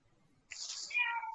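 A person imitates a cat's meow with a short, nasal, rising-then-falling vocal cry, close and fairly loud after a quiet start, with a faint voice murmuring beneath.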